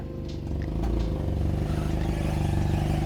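A Nissan 240SX idles and rolls in reverse after being stuck, a steady low engine rumble with a faint scrape or clatter near the start.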